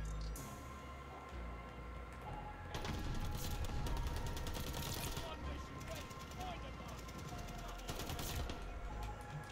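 Gunfire in a Call of Duty: Vanguard multiplayer match: dense, rapid automatic bursts and shots that keep up a loud, nearly continuous crackling din, swelling briefly in the middle.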